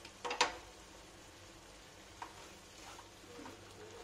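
Maggi noodles cook in a pan over a gas flame, street style, with a faint steady sizzle and a couple of brief scraping stirs near the start, close by and without speech.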